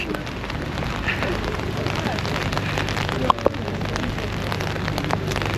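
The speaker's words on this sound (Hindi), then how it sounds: "देख लें बारिश में घूम रहे हैं" Steady rain patters on a city street in Belgrade at night, a dense continuous hiss with a couple of brief sharper knocks near the middle, and faint voices murmuring underneath.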